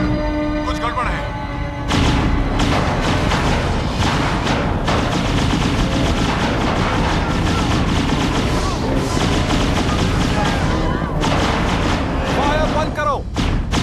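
Dense gunfire rattles through a Power Rangers Lost Galaxy episode, with sustained bursts of rapid shots and booms that are loud and nearly continuous, mixed with voices and dramatic soundtrack.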